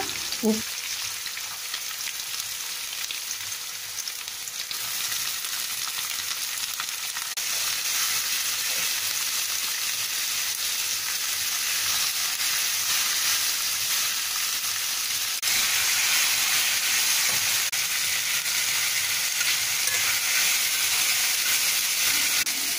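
Chopped vegetables and tomatoes fry in a pan for arreno upma, a steady bright sizzle running without pause, thickening and growing a little louder partway through, with no voices.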